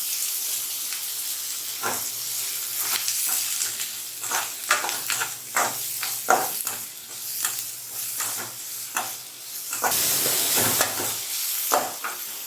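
Sliced onions and green chilies sizzle in a hot pan while a spatula stirs them, producing a steady close hiss with repeated scraping strokes and brief bursts of louder frying.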